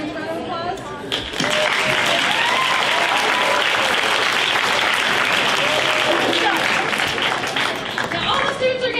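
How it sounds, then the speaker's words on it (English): An indoor school audience at a Battle of the Books evening breaks into loud, sustained applause, dense clapping that swells after a brief spoken lead-in and continues steadily to the end. "So can you help me give the parents a round of applause?"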